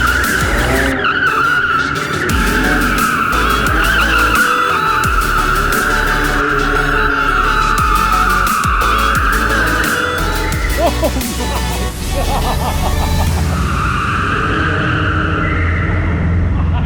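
A Porsche GT2 RS and a McLaren 720S, both rear-wheel-drive supercars, racing with loud continuous tire squeal and skidding over roaring engines, the screech shifting pitch near the end.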